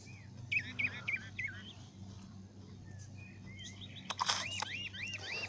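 Bird chirps from the video game The Trail, a run of short bright tweets near the start and a busier cluster of calls later over a faint ambient bed.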